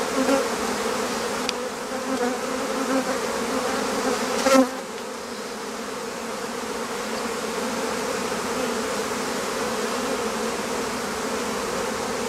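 A honeybee colony buzzing at the hive, a dense continuous drone of many bees up close, with a brief knock or bump partway through.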